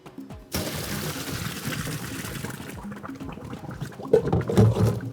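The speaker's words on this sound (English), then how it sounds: "I'm just going to drain the whole thing together." Hot cooking water from pasta and peas pours out through a colander in the sink, a loud steady rush of liquid starting abruptly, with clattering near the end.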